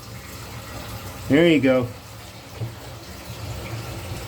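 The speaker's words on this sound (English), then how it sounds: "let's turn on the water" Tap water running into a sink and down the drain after plumbing work on the drain assembly, a steady faint flow beneath a brief spoken remark.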